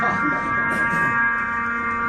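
A steady sustained drone of stacked, unchanging tones from the second movement of a drone piece holds throughout, with faint low rumbling textures shifting beneath it.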